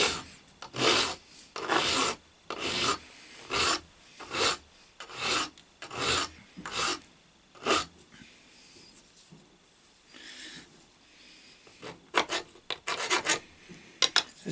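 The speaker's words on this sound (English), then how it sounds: "file that all the way around to get rid of that massive burr on there" A hand file rasps a burr off a cast lathe steady rest in slow, rhythmic strokes, about a dozen evenly spaced passes, close and clear, followed by a pause and a few quicker, lighter scrapes.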